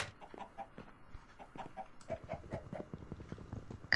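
Chickens in a video game cluck softly in a short, scattered series of quiet calls, with no talking.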